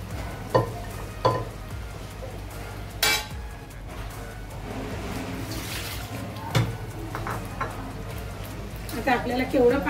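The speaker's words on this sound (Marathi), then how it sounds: "तर चला आपण आता मसाल्यात मटकी घालूया" Cooked matki sprouts tumble into a frying masala for Nashik-style misal, sizzling under a spatula with scrapes and clinks against the pan, while a voice talks over the cooking.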